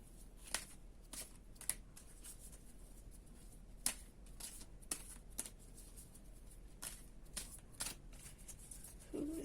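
Angels of Abundance oracle cards are shuffled by hand in a quiet room, a series of crisp, close riffling flicks and soft slaps spaced irregularly, with no one talking.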